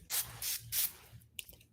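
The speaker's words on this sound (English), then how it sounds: "they use colloidal silver spray, atomize it, and inhale it, and it kills infection." Three short bursts of colloidal silver spray from a pump atomizer, each a loud close hiss with brief pauses between, followed by quieter clicks and faint handling.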